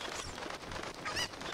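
Chickens in The Legend of Zelda: Ocarina of Time let out a short burst of squawking, fowl-like cries over a busy background, close and fairly loud within about a second and a half.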